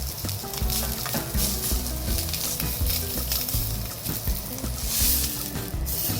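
Char siu roast pork, made as a ramen topping, sautés in a hot pan with a loud, steady, dense sizzle and crackle that runs the whole time with no voices.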